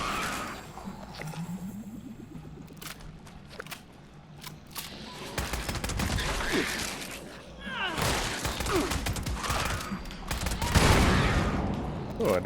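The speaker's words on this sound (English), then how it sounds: "looks like far-flung fireworks doing its thing" Far-flung fireworks explode in Fallout 76, a run of sharp cracks and rapid crackling bursts, some clustered and some spaced, with someone talking at times between them.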